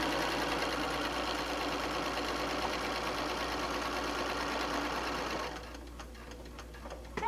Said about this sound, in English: So we're going to sew down.